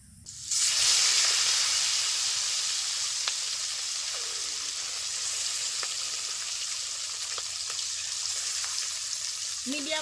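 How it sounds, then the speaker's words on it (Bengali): Bata fish sliding into hot oil bursts into a loud, steady sizzle that starts abruptly and keeps crackling close up without pause. "গরম তেলে মাছগুলো ছেড়ে দিচ্ছি"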